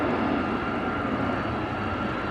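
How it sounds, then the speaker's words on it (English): An Airbus A350 taxiing away at Amsterdam Schiphol, a loud steady engine rumble and whine heard at a distance, unbroken through the short stretch. "As we are watching the graceful A350 moving away, going to Singapore"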